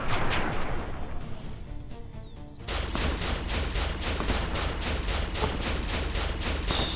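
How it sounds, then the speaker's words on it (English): Rapid gunfire rattles through a Fallout video game firefight: a dense, loud barrage that turns into an evenly spaced, relentless string of shots for several seconds, with no talking. "So many shots. It is wild."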